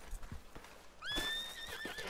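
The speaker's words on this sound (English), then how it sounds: "Bro, your horse is in the way." A horse in Red Dead Redemption 2 lets out a loud, close whinny about halfway through, its shrill neigh wavering for about a second over clip-clopping hooves and low game noise.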